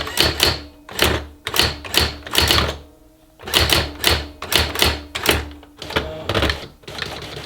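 A Brother AX-15 electronic typewriter, running on an old ribbon, types out bursts of rapid mechanical strikes in rhythmic clusters, with a short pause midway and a close, clattery sound.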